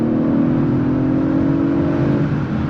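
Interior drone of a 2021 Audi RS5 Sportback with its 2.9-litre bi-turbo engine under acceleration, a loud steady low hum with a tonal whine held throughout, no talking.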